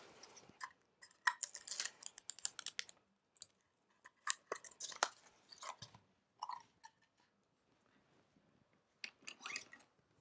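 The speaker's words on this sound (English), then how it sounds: "I like to cut my ribbon at an angle so that you don't get that fraying" Scissors snip ribbon at an angle in quick bursts of crisp, close cuts and clicks, with pauses between the clusters and no talking.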